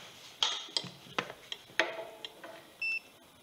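A short electronic beep from a digital multimeter on continuity mode sounds near the end, after a series of sharp clicks and taps from test leads touching alternator wires, all quiet and close.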